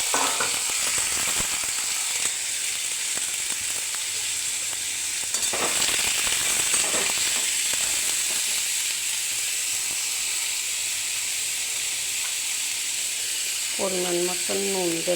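Diced white potatoes and dried green chillies fry with nigella seeds in a pan, giving a steady, close sizzle and hiss that runs throughout, with brief stirring scrapes and a short voice near the end.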